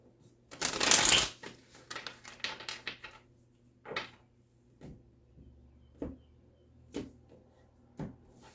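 Tarot cards are riffled in a loud burst, then shuffled in a few short, crisp flicks and taps spaced about a second apart, close by.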